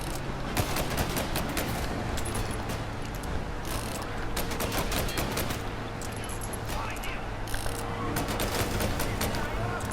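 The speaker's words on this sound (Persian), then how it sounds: "خب الان باید اینجوری تیراندازی کنیم" Continuous rapid gunfire from a shootout in the video game Mafia: Definitive Edition, dense bursts of shots crackling steadily throughout with no pauses.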